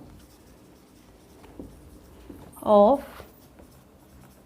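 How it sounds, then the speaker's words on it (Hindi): Pen writing a maths question on paper, with faint scratchy strokes scattered through the clip, while a voice speaks briefly in the middle. "पहले क्वेश्चन लिखते हैं।"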